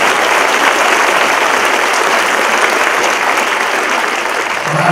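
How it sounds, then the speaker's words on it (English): Sustained, dense audience applause for the volunteers of a stage hypnosis show, a steady loud wash of many hands clapping without a break. "them a round of applause for the stars of your show."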